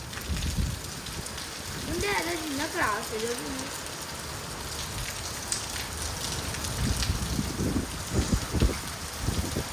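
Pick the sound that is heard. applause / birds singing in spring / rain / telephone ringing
rain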